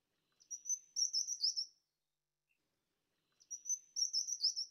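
A Taiwan cupwing gives two high, thin, squeaky song phrases about three seconds apart. Each is a rapid string of short notes, clear and isolated in near-silence.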